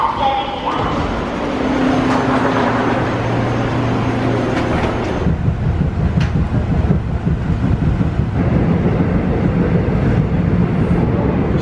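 Seoul metro train ride with a bicycle aboard, a steady rolling rumble and hum of the carriage running throughout, loud and close, with a brief tonal whine early on and people talking faintly underneath.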